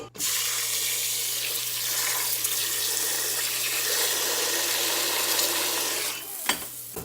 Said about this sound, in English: then you're gonna fill that bowl up with water